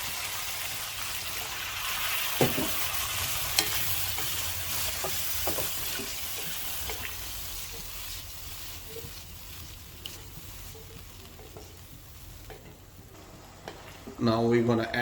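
Water hits a hot frying pan, a steady broadband sizzle with scattered stirring clicks, then a louder burst of hissing near the end.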